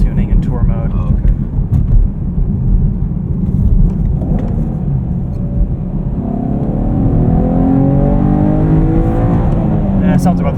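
A 2023 Chevrolet Camaro 1LT with a 3.6L V6 and manual gearbox accelerates from inside the cabin, its steady engine drone and low rumble rising slightly in pitch, with people talking over it throughout.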